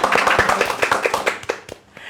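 A group of people clap their hands in a quick, irregular burst at close range, the claps thinning out and fading toward the end.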